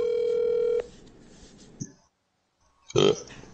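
A phone ringback tone plays as a steady, clear tone for under a second. After a short silence, a loud, abrupt burst that may be a sneeze follows.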